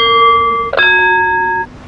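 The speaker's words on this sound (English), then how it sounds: "One brass bell." A brass bell in the I Spy Treasure Hunt video game rings out twice in quick succession, clear ringing tones that linger briefly before cutting off.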